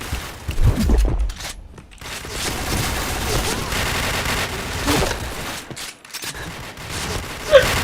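Sustained shooter-game gunfire, dense volleys of rapid shots rolling almost continuously with brief gaps, a voice cutting in now and then over the shooting.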